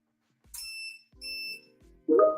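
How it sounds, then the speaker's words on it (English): A PolyDryer filament dryer sounds two loud, clear electronic beeps in quick succession, followed by a brighter, busier chime-like tone, each crisp and close against near silence. "So don't worry about not hearing the beep when it's finished drying"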